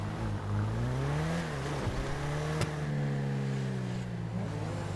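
A car engine revs in a video game, a loud steady drone that climbs and dips in pitch, with a sharp click partway through.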